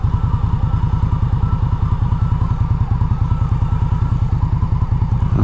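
A 2016 Victory Octane liquid-cooled motorcycle engine runs close by, a fast and even series of thumping firing pulses over a rough low rumble, with no talk.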